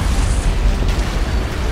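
An antimatter charge detonates aboard a cruiser in a Halo game, giving one heavy, loud boom with a deep rumbling low end that rolls on and decays over the following second or two, with no voices.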